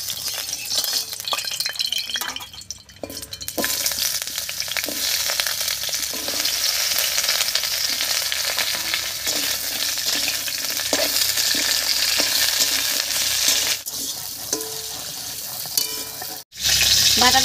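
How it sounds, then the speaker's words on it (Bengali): Drumsticks fry in hot mustard oil with a loud, continuous sizzle and hiss, interrupted by occasional stirring clinks and two brief quiet gaps. "এই তেলের মধ্যে আমি সজনে ডাঁটাটা হালকা করে ভেজে নেব"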